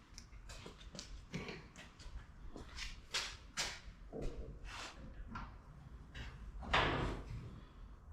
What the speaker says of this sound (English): Get this door open.